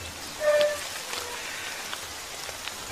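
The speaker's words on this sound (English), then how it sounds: "it's turned out to be the rainiest of rainy seasons" Rain falls steadily through jungle foliage in the dry season, a soft continuous patter of drops on leaves with a few brief louder splashes, moderately faint and with no voices.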